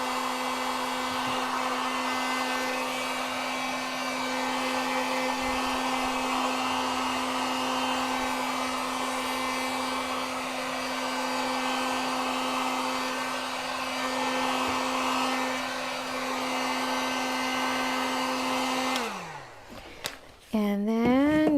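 Heat gun blowing on a mixed media artwork, a steady whining electric hum with a strong tonal drone that runs on and then winds down sharply near the end.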